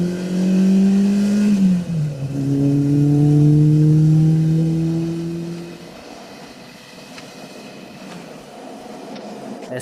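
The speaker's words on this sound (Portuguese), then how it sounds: "vamos ver como esse motorzinho se comporta quando a gente passa as marchas" An Autobianchi A112 with a pushrod engine revs hard through the gears. The engine note climbs, drops sharply at a shift, then climbs again and fades into a distant, quieter hum.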